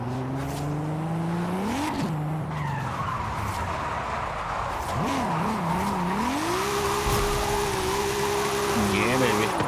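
A JDM drift car in Forza Horizon 5 slides through long tire squeals while the engine revs rise and fall. Someone talks excitedly over the steady screech.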